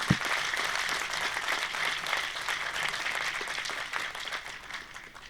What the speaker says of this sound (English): while girls were clapping and applauding thunderously